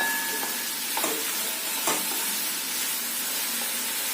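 Tomato masala for a spinach dish fries in oil in a pan, keeping up a continuous close sizzle broken by a few soft stirring scrapes, with no talking.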